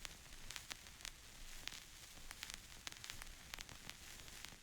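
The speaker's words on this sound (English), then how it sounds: "Most of the time is just filled with radio static" Radio static in a recording, a faint, continuous hiss broken by frequent sharp crackles and pops, with no voices.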